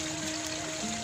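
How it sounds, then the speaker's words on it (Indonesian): Water from a riverside waterfall rushes in a steady, dense wash, loud and close, with no breaks across the short stretch. "dekat air terjun."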